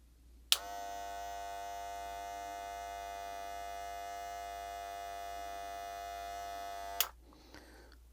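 Wahl Black Magic Clip cordless hair clipper with a brush rotary motor, switched on with a click and running as a steady high-pitched buzzing whine for about six and a half seconds before clicking off.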